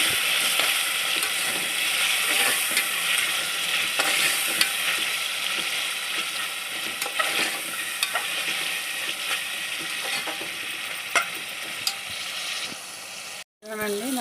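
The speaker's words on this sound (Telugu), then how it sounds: "ఇప్పుడు ఇది కొంచెం ఆయిల్లో మగ్గనివ్వాలండి పచ్చివాసన పోయే వరకు వేసుకోవాలి" Spiced masala sizzling and frying in oil in a pan while cooking a Rayalaseema-style goat head curry, with a steady crackling hiss, occasional stirring scrapes, and a brief drop near the end.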